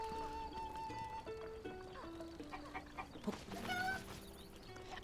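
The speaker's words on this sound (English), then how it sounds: "Chicken." A chicken clucks in Zelda Breath of the Wild among other bird and animal calls, brief bursts heard over a quiet background of game music tones.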